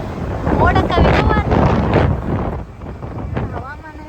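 Strong wind buffets the microphone outdoors under cloudy, rain-threatening skies, a rough roaring rush that swells and fades while a person talks over it.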